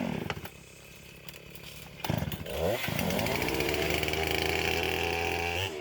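Chainsaw cutting through a hickory log round: the saw idles and blips unevenly at first, then revs up and holds a loud, steady high-pitched whine as it bites into the wood, close by with no talk.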